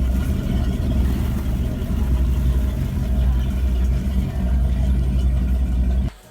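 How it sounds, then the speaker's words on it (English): An old American V8 aboard a roughly 40-year-old superyacht idles with a steady, low, lazy rumble. The engine runs continuously at close range and cuts off sharply near the end. "Because when I heard it, I thought it does sound like one of those old lazy V8s that you get in an Impala or something."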